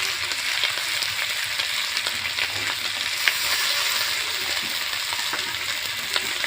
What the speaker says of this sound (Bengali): এবারে আমি কষিয়ে নেব। আর দিয়ে দিচ্ছি এখানে জিরে বাটা 1 চামচ, আদা বাটা 1 চামচ।